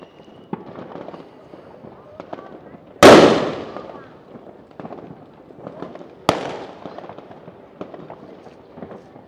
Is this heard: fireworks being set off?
yes